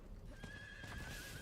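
A mounted horse in Diablo whinnies with clip-clopping hooves, set off by an electric-themed look; the sound is short and quiet, with no talk over it.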